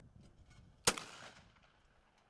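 A single sharp blast from an SKB 90 TSS Sporting shotgun at a collegiate shooting event cracks out close and loud against quiet outdoor background, then rings off in a fading tail.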